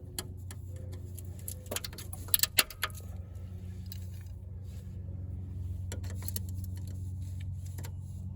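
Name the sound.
prying plastic clips off a 4Runner splash guard with a clip tool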